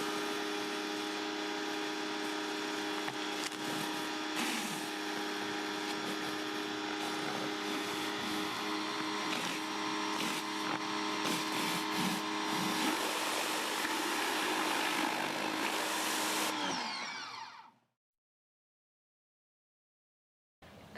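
A Greenworks 1800 PSI pressure washer sprays concrete with a loud, continuous droning hiss and motor hum that stops abruptly near the end, leaving silence.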